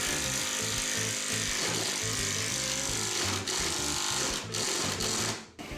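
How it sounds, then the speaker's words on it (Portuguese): A power drill bores into a workpiece held in a 90-degree jig, a close, loud continuous whirring grind that runs steadily and then cuts off near the end. "Pronto, a peça está fixada com o jig 90 graus, agora é só furar."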